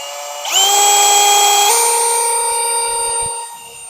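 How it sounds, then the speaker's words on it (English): Cordless power drill driving a fastener into wooden deck framing on a floating rooftop deck, a loud steady whine that steps up in pitch midway, then tapers off near the end. "now it's kind of held into place that way with the drill"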